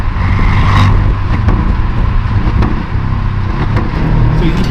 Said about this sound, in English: even though I blipped it pretty close, I was off by maybe 100 RPMs or so